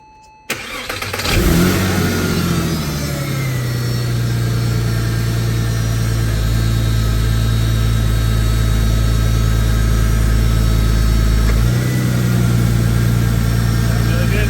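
A Porsche engine, just repaired with new cam timing chain guide rails, cranks and catches, then settles into a loud steady idle close by with a brief rev dip near the end, and voices talking faintly underneath.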